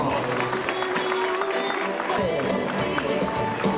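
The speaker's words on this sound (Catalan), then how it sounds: "Un fort aplaudiment per aquest pòdium" Crowd applauding the podium finishers at a women's day running race in Cocentaina, a continuous wash of clapping and cheering mixed with crowd chatter, steady and moderately loud.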